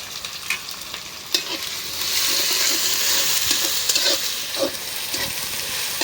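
Garlic and chopped onion tipped into hot oil in a pan, the sizzle swelling into a loud, steady frying hiss with scraping stirs close by, for a lentil dal cooked at an old-age home.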